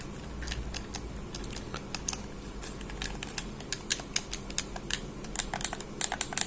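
Buttons on a copy PS4 controller click rapidly and irregularly, light plastic taps over a faint background hiss, with no voices.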